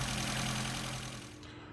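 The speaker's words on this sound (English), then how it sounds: "listen to an engine that's in very poor state of tune" Mini 998 engine in a very poor state of tune, running with a rough, uneven knocking idle that drops off slightly toward the end of a short burst.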